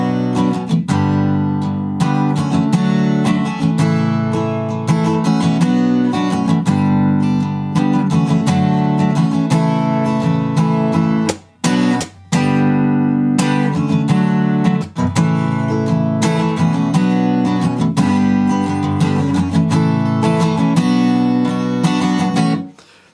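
Strummed guitar chords move through a steady progression, full and sustained, with one brief break near the middle before the playing resumes.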